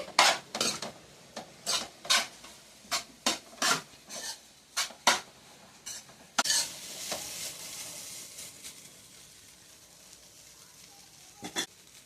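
Egg fried rice with chilli sauce and vinegar is stirred in a pan, a series of close, rhythmic scraping and tapping strokes over a faint sizzle that thins out into quieter frying with a couple of late clinks.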